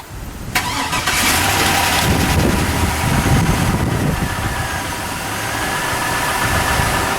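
A 2002 1500 truck engine after a starter repair, cranking and catching, then settling into a steady, loud, close idle that runs without a break under a rough, even rumble.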